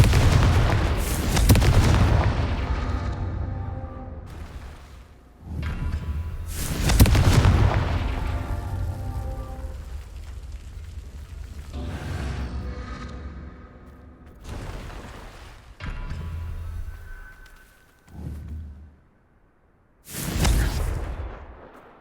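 Repeated Confringo spell explosions in the video game Hogwarts Legacy: four loud, booming blasts spaced a few seconds apart, each with a crackling, rumbling decay, plus smaller bursts between them.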